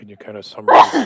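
A single sharp sneeze bursts out in a courtroom during a murder trial, right after someone speaks a short question.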